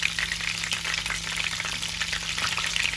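Chicken leg pieces fry in hot oil in a pan, a continuous bright sizzle close by with faint stirring underneath, no one speaking.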